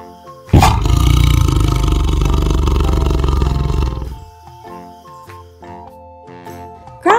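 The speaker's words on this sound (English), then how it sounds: "Tiger." A tiger gives one loud, close roar lasting about three and a half seconds, after which a light jingling tune plays quietly for the rest of the clip.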